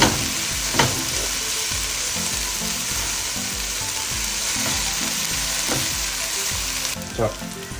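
Whole spices and onions sautéing in a pan for Arabic-style majboos, a steady loud sizzle and fry with a few sharp clinks of a utensil stirring against the pan, no voices.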